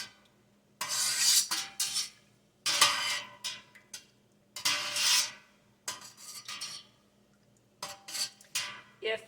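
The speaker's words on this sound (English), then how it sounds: "We're now going to stir it into our milk, and you'll want to stir it in for about a minute to get it fully incorporated into all of your milk." Spoon or utensil stirring cheese culture into a pot of milk, repeated bursts of scraping and clinking against the pot with short pauses between strokes, close and clear with no talking.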